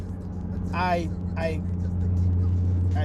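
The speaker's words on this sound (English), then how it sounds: "I get drone in the cabin" A low, steady engine drone fills an Infiniti G35 cabin at speed, from solid rear differential bushings, growing slightly heavier toward the end, while a person speaks briefly over it.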